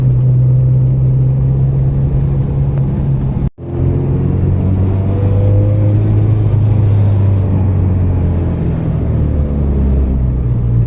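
A car engine runs with a steady low rumble close by, with an abrupt cutout partway through before it picks back up and revs with rising pitch, loud and with no voices.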